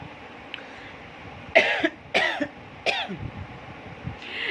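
Three distinct coughs in quick succession, close and fairly loud, with quiet room tone between them and no talking.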